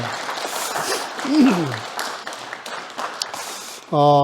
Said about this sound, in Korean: 우리 박수로 한번 다시 한번 격려하겠습니다.